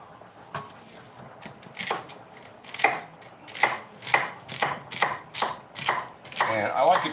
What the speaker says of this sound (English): We're gonna dice up a little bit of celery.